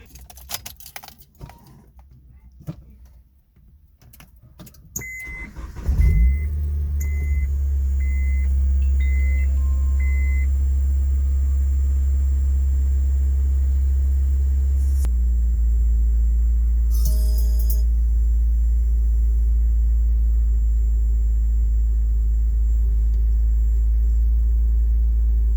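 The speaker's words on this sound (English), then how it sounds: "I'm going to start it now, start the car now, and see if everything sounds the way it's supposed to" A car engine cold-starts, cranking and catching after some rustling, then settles into a steady, loud idle with a slight change in pitch partway through; fitted with a 72mm billet throttle body.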